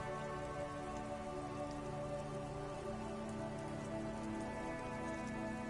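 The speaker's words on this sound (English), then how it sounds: "All around you, rain falls on the great city of Revachol." Steady rain pours across a sprawling city in a video game, a dense, unbroken hiss of drops on surfaces over a low ambient hum, with no voices.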